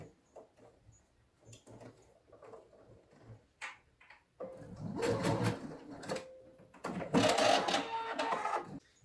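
A sewing machine stitches fabric for a small travel case in two short, fast whirring bursts, each a rapid mechanical chatter, after quieter handling sounds and faint movement.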